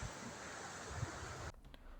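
Ocean waves wash onto a beach in a steady, loud rush of surf and wind noise that cuts off abruptly after about a second and a half.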